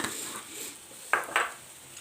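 Mushroom soufflé ingredients stirred in a bowl, heard as two quick, faint utensil clinks against the bowl in a quiet kitchen.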